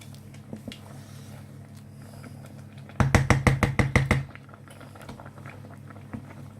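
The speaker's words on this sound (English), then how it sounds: "So I'm just going to bring this to the boil now." Mushroom tandoori masala curry, vegan, bubbling in a pot as it comes to the boil: a burst of quick, loud popping bubbles for about a second, then quieter scattered plops and soft liquid movement.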